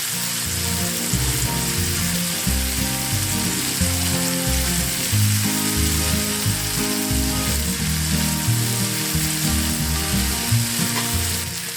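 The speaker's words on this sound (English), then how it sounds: "fry the liver for about 1 minute on one side" Liver frying in a pot gives a loud, dense, continuous sizzle and crackle heard up close, holding steady the whole time.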